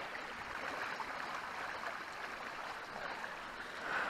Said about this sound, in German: direkt hier nebendran läuft ein Flüsschen lang und man hört die ganze Zeit das Plätschern